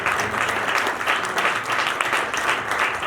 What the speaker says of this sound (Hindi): इसी बात के लिए जोरदार तालियां देंगे